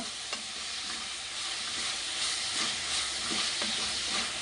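Coriander, mint and curry leaves frying in a pan, a loud, constant hissing sizzle with a few faint utensil taps and stirring sounds beneath it.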